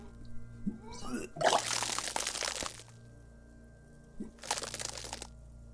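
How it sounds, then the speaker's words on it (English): Retching and vomiting from a character in the video game Disco Elysium: a wet, gushing heave lasting over a second, then a second shorter burst a few seconds later, close and loud over a low game ambience. "Your body curls and pushes it out, burst by burst, Uh-huh. until a pool of vomit lies under your feet"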